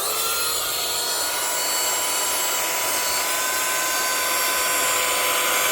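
A Temu rechargeable car vacuum cleaner running nonstop, giving a loud, close, steady high whine and rushing airflow with a gently shifting pitch, alone without talk.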